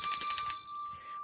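A bright bell rings in a quick, shimmering burst for about half a second, then leaves a clear sustained tone hanging alone in an otherwise quiet space.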